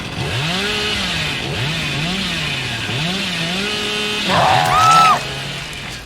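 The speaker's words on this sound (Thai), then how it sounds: "แม่งเป็นเลื่อยดูม" A chainsaw in the Dead by Daylight video game revs in repeated rising and falling surges, a loud buzzing growl cycling about once a second, with a brief higher shriek near the end.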